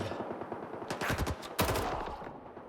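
Rapid automatic gunfire in the game Stalker 2, two close, loud bursts of quick shots within a few seconds, with no talk over them.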